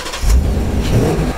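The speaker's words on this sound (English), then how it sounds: "Start up the donor car" A donor car's engine starts up during a battery jump-start, cranking briefly and then catching into a loud, close rev that settles into a steady running rumble, with no voices.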